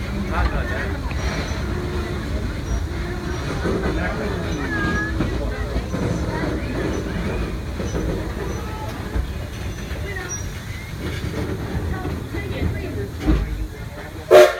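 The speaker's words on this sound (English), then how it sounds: "Until the train comes to a complete stop." A miniature Edison locomotive train rumbles steadily with low mechanical noise and faint hissing, slowing toward a halt at a station at night; a brief sharp burst near the end.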